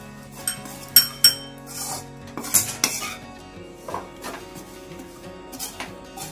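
A metal spoon stirs milk powder into a sweet chickpea mixture in a kadhai, with several sharp clinks and scrapes against the pan, close and irregular, otherwise quiet.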